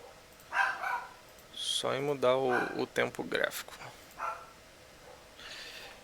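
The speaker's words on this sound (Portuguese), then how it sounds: "meu cachorro tá latindo" A dog barks a few times in sharp bursts while a person speaks nearby.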